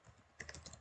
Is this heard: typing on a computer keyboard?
yes